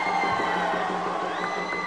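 A crowd of about 500 fans at a boxing event cheers a Thai boxer in a broad, sustained roar of voices, with a steady tone running underneath.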